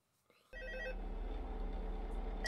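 An old telephone ringing in Five Nights at Freddy's Help Wanted VR starts abruptly after a brief quiet and rings on steadily and loudly, with a bright repeating bell tone over a low drone.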